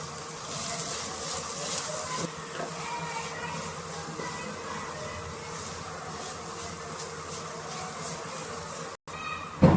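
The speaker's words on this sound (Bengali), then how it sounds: "এবারে দিয়ে দেবো পেঁয়াজ কুচি" Chopped onion frying in oil in a pan already holding fried garlic and ginger, giving a steady, close, even sizzle that runs without a break and with no talking.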